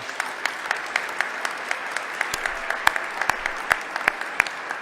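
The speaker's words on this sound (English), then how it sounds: "Let's give them all another round of applause." Crowd applause at an outdoor holiday tree lighting, a steady patter of many hands with crisp individual claps popping out, moderately loud and sustained throughout.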